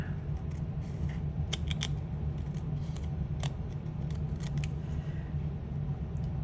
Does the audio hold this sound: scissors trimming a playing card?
yes